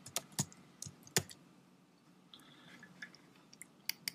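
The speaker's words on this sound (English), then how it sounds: "So I'm going to put in a password." Password being typed on a computer keyboard running Windows Vista: a sparse series of sharp, close key clicks with uneven pauses between strokes, fairly quiet against a hushed room.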